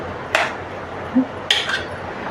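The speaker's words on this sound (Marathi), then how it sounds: "असा कुकर घेतला आहे मी याच्यामध्ये ताटले ठेवायचे" A metal plate set down inside a pressure cooker, heard as two or three sharp close metallic clinks and knocks over a quiet room background.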